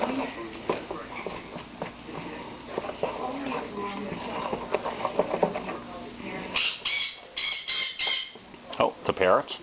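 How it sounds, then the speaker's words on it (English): Harsh bird squawks burst out in a rapid cluster near the end, following a stretch of kitchen clatter and background noise. "Oh, the parrots."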